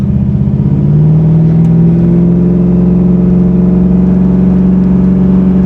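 A 500hp 1987 Chevy Monte Carlo SS V8 idles near 800 RPM, a loud, close, steady rumble whose pitch rises slightly early on, then holds even with no voices.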